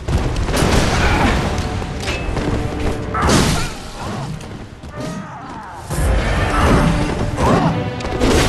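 Gunfire and heavy combat in Bloodborne during the fight with Father Gascoigne, with repeated loud cracking bursts and crashing impacts in quick succession over a dense, chaotic battle din.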